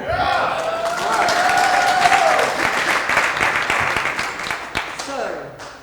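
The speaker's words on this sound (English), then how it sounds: "I do expect thunderous applause for them" Audience applause and crowd noise at a Rotary Club district installation banquet, a sustained, fairly loud wash of clapping from a roomful of people with some voices mixed in, fading slightly toward the end.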